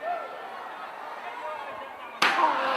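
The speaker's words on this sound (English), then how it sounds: "Another chair shot to the back." Steel chair shot to the back during a Great North Wrestling match, landing as a single sharp, loud crack late in the moment, after steady crowd noise and commentary, with the arena din continuing afterward.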